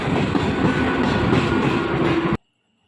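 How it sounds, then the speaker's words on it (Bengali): A train pulls into a station at Naihati, a loud, steady rumble and rattle of rolling wheels and carriages filling the scene, then cutting off abruptly near the end. "আর অপেক্ষা করতে করতে চলে এলো ট্রেন"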